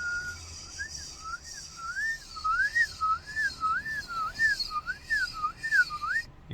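A palate whistle holds a steady mid-high tone with the tongue while a smooth, regular vibrato wobbles the pitch up and down for several seconds, clear and solo with no talking.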